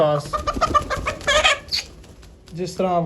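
Hens cluck and squawk close by in a room on a poultry farm, in short repeated bursts, while someone talks over them.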